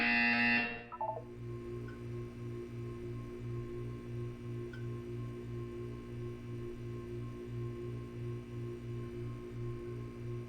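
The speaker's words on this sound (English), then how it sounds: "You will hear a buzzer. When you hear the buzzer, look up at the ceiling." Portal 2 test-chamber buzzer: a steady train of evenly spaced low electronic pulses repeating about twice a second, loud and continuous over a faint background hum, following a brief brighter tone at the start.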